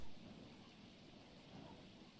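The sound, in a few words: rain falling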